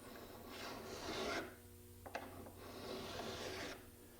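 A file drawn lightly along the edge of a steel cabinet card scraper to remove the burr gives two quiet, drawn-out rasping strokes, with a small click between them.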